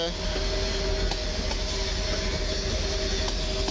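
An EN76 electric multiple unit of Koleje Mazowieckie, an airport service from Modlin to Warsaw Chopin Airport, rolls past at Warszawa Zachodnia station with a steady loud rumble, a sustained tonal hum and faint rail clicks throughout.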